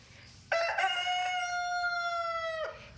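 A rooster crows once in a TV advert for NyQuil cold medicine, one long, loud, drawn-out call that holds steady for about two seconds, then stops abruptly, alone with no talk over it.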